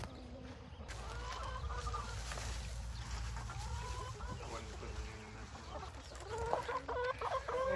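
A hen on a family homestead farm clucks repeatedly in short throaty bursts, close by and fairly faint over a steady background hum, with a few louder clucks near the end.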